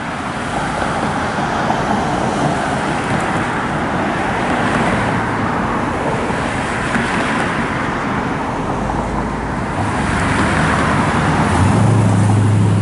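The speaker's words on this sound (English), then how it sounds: "little bit of traffic today." Road traffic passes steadily on a road in Goodrich, Michigan, a continuous loud roar of vehicles with swells as cars and heavier trucks go by, and no talking.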